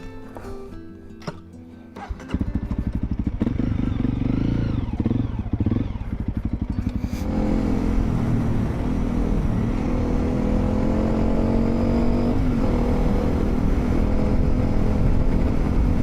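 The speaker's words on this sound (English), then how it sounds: "Let's start the bike and ride back." A motorbike starts up at night, and its engine catches and settles into a loud, steady rumble. The engine note rises and holds as the bike rides off, close by and continuous.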